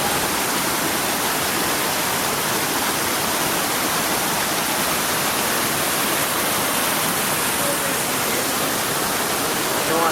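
A 150-metre waterfall, Cachoeira dos Pretos in Joanópolis, roars as a dense, constant broadband rush of falling water, loud and unbroken throughout with no voices.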